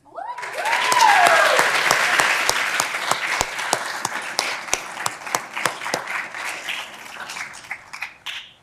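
Audience applause at a law school moot court competition finals, a dense burst of many hands clapping that swells within a second, holds steady and gradually thins out with scattered louder claps near the end, a few voices faintly underneath.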